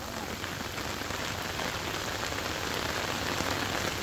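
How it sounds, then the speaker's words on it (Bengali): Heavy monsoon rain pours steadily over flooded paddy fields, a dense, continuous hiss of drops close by with no pauses or voices. "যেমনে বৃষ্টি নাই এতদিন, তেমনে আল্লাহ নামায় দিছে বৃষ্টি এবার"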